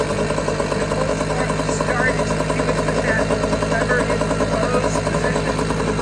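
A small pull-start engine idles steadily with a continuous low, rough drone close by, unchanging for several seconds.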